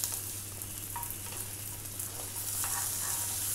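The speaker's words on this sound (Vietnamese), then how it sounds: "Mình chiên bằng lửa nhỏ như vậy nè thì cái lạc xưởng của mình nó sẽ chín đều hơn các bạn" Chinese sausage pieces frying in a little water over low heat in a pan, giving a steady, soft sizzle with faint crackles throughout, no voices.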